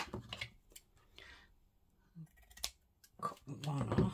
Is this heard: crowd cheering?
no